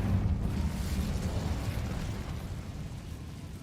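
An Incendio fire spell cast in Hogwarts Legacy, a loud whooshing burst of flame that starts strong and slowly fades over a few seconds.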